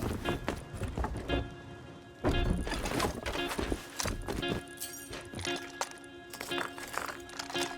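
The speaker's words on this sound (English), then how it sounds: "I heard somebody take my horse and ride off in a direction I had yet to explore." A horse galloping away in the survival video game Rust: a rapid run of hoof clip-clops, fairly close and steady, carried on continuous background noise with no talking.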